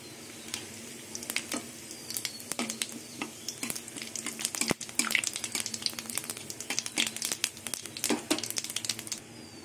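Whole cumin, bay leaf and dried red chilies sizzling in hot oil in a kadai, a steady crackling fry with scattered sharp pops and spatters, close and alone without speech.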